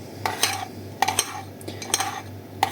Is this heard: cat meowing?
no